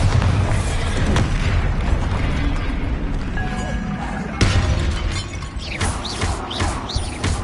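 Confringo and Bombarda spells go off in the Hogwarts Legacy video game as a dense barrage of booming explosions and shattering crashes. The blasts come loud and constant, with sharp bursts near the middle and whooshing magic sounds toward the end.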